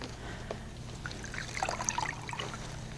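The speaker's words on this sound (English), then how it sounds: "And I'll rinse the arm." Water trickles and dribbles softly as an arm is rinsed during a bed bath, a faint, close, intermittent pouring over a quiet background.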